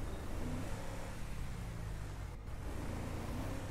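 Engine of a 2005 Vigo in GTA 5 revving at a steady, fairly loud drone, with a slight rise in pitch and no one speaking.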